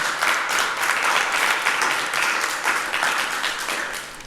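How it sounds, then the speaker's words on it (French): A studio audience on a French game show applauds a finalist, a dense, lively burst of clapping that swells and holds steady for several seconds. "On peut applaudir pour Edwin"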